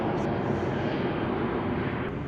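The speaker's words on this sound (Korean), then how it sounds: "하여튼 비행기가 이륙하고 있습니다" Korean Air airplane taking off near the airport at Yongduam, Jeju, a loud sustained broadband engine roar filling the whole stretch at steady level.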